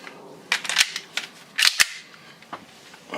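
An airsoft gun fitted with a Knuckles Customs BBU fires sharp, snappy pops in short, irregular clusters, with quieter clicks in between. The shots are close and there is no talk.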